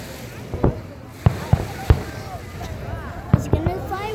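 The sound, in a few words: fireworks exploding over Lake Tahoe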